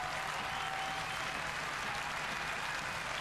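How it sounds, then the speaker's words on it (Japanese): Large audience at a 2004 international ten-dance competition in Australia applauds dance couples returning to the floor, a dense, even wash of clapping that holds steady and loud from start to finish. "観客から大きな喝采、声援を浴びています。"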